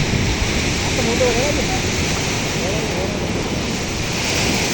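Rough sea waves pound the shore at Bharadkhol Koliwada, surging up to the houses: a loud, unbroken roar of surf and wind, close and dense throughout.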